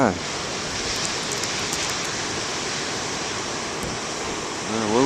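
Big ocean waves crash on a shore in a continuous, broad roar of surf, with a brief voice at the very start and end.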